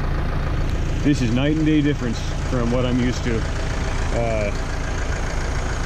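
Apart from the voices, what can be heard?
tractor with hay mower running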